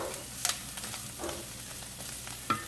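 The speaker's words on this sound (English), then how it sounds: "It's almost like stir frying." Ramen ingredients stir-fry in a hot pan, a steady low sizzle with a few sharper crackles and scrapes of stirring spread through the short stretch, close and fairly quiet with no talking.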